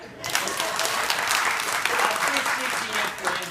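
A theatre audience at a community musical stage production breaks into warm, sustained applause, a thick wash of clapping that starts abruptly and holds loud and even throughout.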